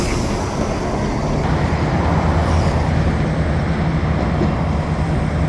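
EMD diesel locomotives idle and power up, giving a steady, loud, deep rumble that continues without a break and has no speech over it.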